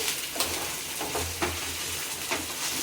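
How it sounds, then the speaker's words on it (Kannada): Ginger garlic paste and onion frying in a pan for soy gravy, a steady close sizzle with a few stirring scrapes over a low hum, no voices. "ಹಸಿ ಶುಂಠಿ ಬೆಳ್ಳುಳ್ಳಿ ಪೇಸ್ಟು ಒಂದು ಚಮಚ ಇದು ಫ್ರೈ ಆಗಬೇಕ್ರಿ"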